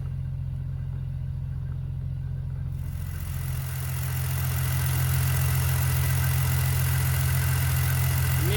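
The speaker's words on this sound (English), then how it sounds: "we're going to run the engine a little bit to circulate the power steering fluid" BMW E46 engine idling steadily during a power steering fluid refresh, a constant low rumble throughout that thickens slightly partway through, with no talk.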